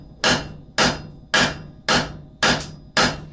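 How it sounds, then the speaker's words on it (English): A hammer strikes hot steel on the horn of an anvil while drawing out a long taper to forge blacksmith calipers, giving six sharp, ringing blows at an even, steady rhythm, close and loud with no talk. "I'm just drawing this out under, right on the horn of the anvil"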